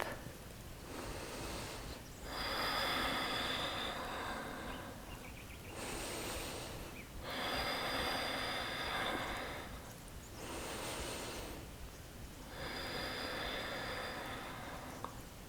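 Slow deep breaths during a beginner yoga warrior pose, four long airy inhale-exhale swells in a steady rhythm, close and fairly soft, with no talking.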